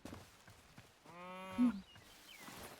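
A cow in the Hytale video game gives a single drawn-out, tonal moo in the middle of quiet game ambience, moderately close and without talk.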